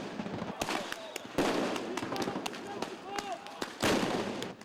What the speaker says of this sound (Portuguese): A tropa de choque desce as escadarias e continua atirando.